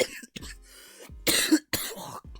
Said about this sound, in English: I hate this bloody cough.